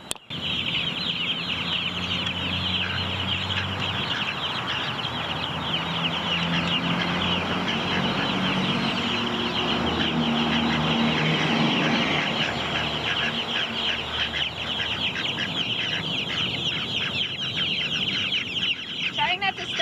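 Meat birds in a fenced pen cluck and chatter continuously as a dense flock, with occasional wing flaps and a voice speaking faintly beneath the noise.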